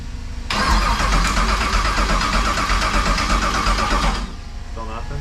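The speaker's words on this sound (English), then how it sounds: "Matt, cycle the ignition" A car engine cranks and runs loudly up close for several seconds after the ignition is cycled, then drops away, with voices talking nearby.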